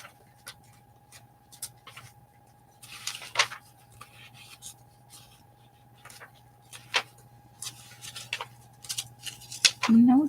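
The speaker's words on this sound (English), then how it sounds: "We have to cut off some of the skirt." Scissors snipping through a paper picture cut out for a collage, scattered crisp snips and rustles in irregular bursts, close up over a quiet steady hum, with a louder rustle near the end.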